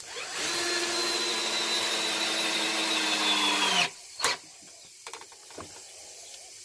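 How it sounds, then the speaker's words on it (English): A power drill pre-drilling into wood for bonsai work runs with a steady high whine for about four seconds, then stops, followed by a few sharp clicks and handling knocks. "I find too, if you don't pre-drill like this, you can end up splitting your wood a lot easier."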